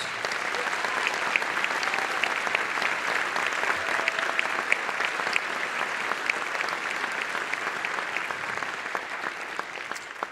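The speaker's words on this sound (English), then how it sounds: "let's give them a round of applause" A concert audience at a band performance gives steady, sustained applause, a dense unbroken wash of many hands clapping at moderate level for the whole stretch.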